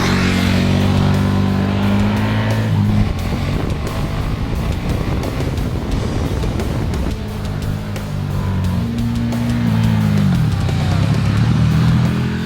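2014 KTM 1290 Super Duke R motorcycle ridden on mountain street roads, a loud continuous engine drone rising and dropping in pitch through revs and gear changes, with heavy wind rush over the sound.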